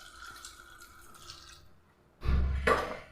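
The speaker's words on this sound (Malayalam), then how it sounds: "ഇതിലേക്ക് നമുക്ക് വെള്ളം ഒഴിച്ചു കൊടുക്കാം." Water is poured into a pressure cooker, a sudden gush that starts after a quiet stretch of faint dripping and runs loud and close until the end.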